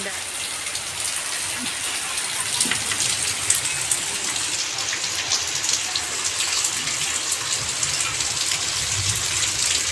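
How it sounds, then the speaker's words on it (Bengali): Steady rain falls outdoors, a dense, even hiss of drops on surfaces that holds at the same level throughout, with no talk. "বৃষ্টি পড়ছে।"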